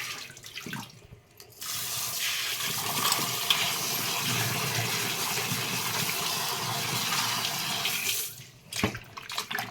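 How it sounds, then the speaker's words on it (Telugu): Running tap water pours steadily as cut sweet potatoes are washed under it in a home kitchen, a continuous close splashing gush with brief handling sounds at the start and end. "శుభ్రంగా కూడా రెండు ముక్కల కింద కోసి శుభ్రం కడగాలి"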